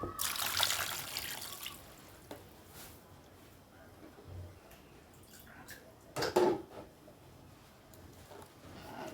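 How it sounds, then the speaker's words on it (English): Water pours and trickles into a cooking pot for a few seconds, with soft splashing and a brief louder slosh near the end. "We add some water."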